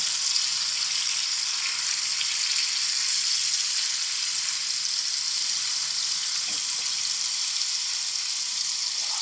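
Chicken sizzles steadily on a hot tawa as it grills, a bright, even hiss that holds at the same level throughout with no talking over it.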